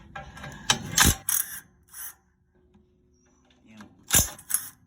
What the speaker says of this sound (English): Impact with a chrome socket.